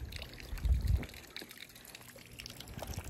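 Water trickles and drips from potted plants outdoors during a rare Florida snowfall, a soft, close dribbling with a brief heavier splash near the start, then quieter intermittent drips.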